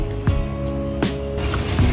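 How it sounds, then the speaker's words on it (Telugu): Water is poured into a pan of jaggery to start a syrup, a short splashing fill with a few clinks, close and alone. "కొంచెం వాటర్ పోసుకుందామండి పాకానికి"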